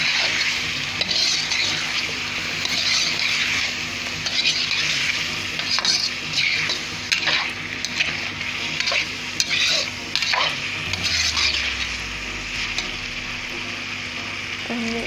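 Nihari masala frying in a pot, a steady crackling sizzle with repeated scraping strokes of a spoon stirring through it, close and continuous for the whole stretch.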